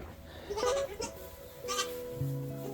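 Goats bleating on a farm, several wavering cries at close range with short pauses between them and a deeper call near the end, alone with no talk.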